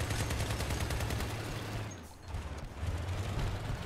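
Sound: vehicle weapons firing in Crossout video game

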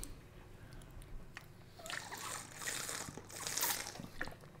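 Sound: drinking water in the video game My Garage

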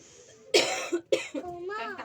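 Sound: cough

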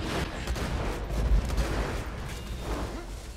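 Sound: sword explosion gun firing, video game Borderlands Assault on Dragon Keep

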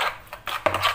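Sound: mixing seasoned food in a bowl

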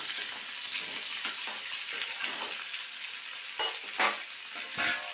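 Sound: stirring vegetables frying in a pan

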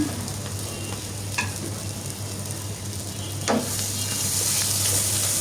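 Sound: beef brain frying and being stirred in pan

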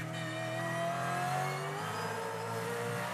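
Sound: Supercars race car onboard engine sound on the corner exit

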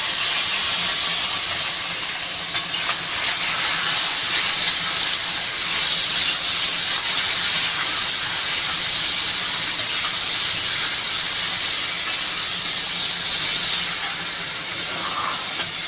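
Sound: vegetables poured into a hot pan, sizzling and steaming

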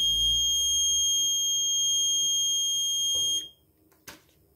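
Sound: alcohol detector alarm buzzing

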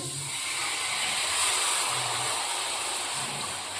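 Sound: water poured onto roasted pearl millet flour, sizzling

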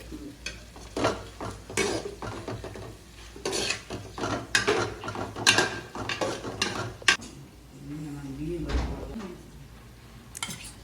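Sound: stirring ginger paste into the prawn biryani mixture

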